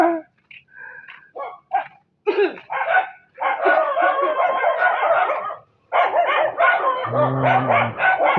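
Several dogs bark and yip in overlapping bursts, loud and close, with a rapid run of barking that stops and starts again, ending on a lower, longer growl-like tone.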